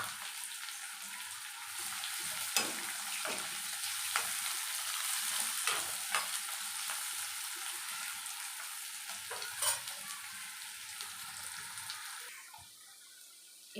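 Onions frying in a pan, a steady close sizzle with scraping stirring strokes throughout, dying down near the end.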